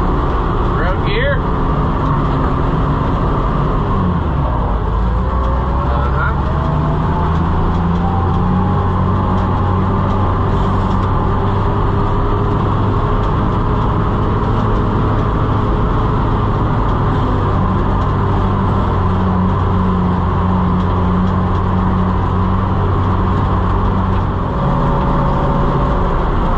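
An Oliver 7300 combine travels in road gear, its engine a steady loud drone with low harmonic hum and rattle throughout, nearby and continuous.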